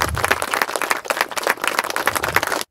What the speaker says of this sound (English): So give that family and all yourselves an incredible round of applause.